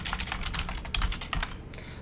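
Rapid keystrokes clatter on a computer keyboard, a close, crisp run of irregular clicks with a few louder taps and a brief pause near the end.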